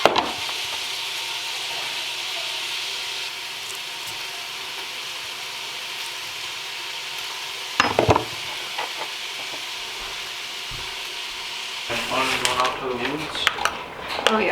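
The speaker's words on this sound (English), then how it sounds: "My ghee is going crazy on the stove, ready for peppers and onions." Peppers and onions fry in hot ghee in a pan on the stove, a continuous bright sizzle broken by clattering bursts of stirring and utensil scrapes partway through and again near the end.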